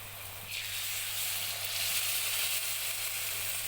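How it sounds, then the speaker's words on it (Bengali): Shola kochu (taro) dropped into hot oil in a wok, a sudden loud sizzle that rises and then holds as a steady, dense hiss. "এরপর কচুটা ছেড়ে দিচ্ছি।"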